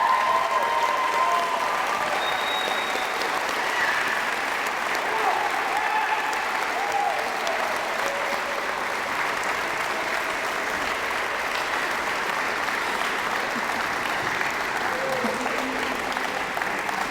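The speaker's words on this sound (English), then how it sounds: "everyone get on your feet so we can give a big round of applause" Sustained audience applause fills a college letter-of-intent signing ceremony, steady and dense throughout, with scattered cheers rising above the clapping.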